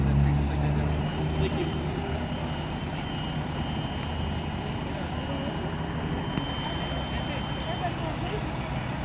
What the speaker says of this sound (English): they had the, you know, the Portland police airplane.